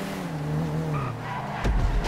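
Cars race in GTA 5 Online with an engine whine sliding down in pitch, then a sudden loud skid or impact burst near the end.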